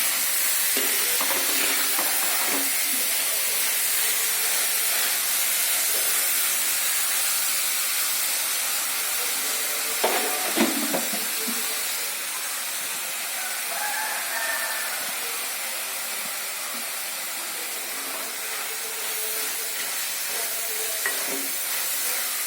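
Sliced onion sautéing in a pan for a Kerala-style thoran, a steady broad sizzle throughout with occasional scrapes and clinks of stirring, loud and close, with no voices.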